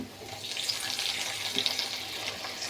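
Shrimp added to hot oil with onions fry with a loud, continuous close hiss and crackle that holds steady throughout.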